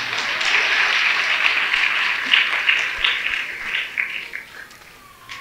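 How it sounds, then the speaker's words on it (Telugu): A church congregation applauds during a special Mass at Our Lady of Perpetual Help church in Jagadgirigutta, Hyderabad. The clapping is dense and steady, then thins and fades out toward the end. "చప్పట్లు కొట్టరా మీరు?"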